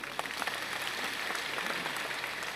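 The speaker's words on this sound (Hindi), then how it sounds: "ताली भी बजा दीजिए एक बार" An audience at a devotional question-and-answer gathering claps together in steady, dense applause that holds at an even level throughout, with no voices above it.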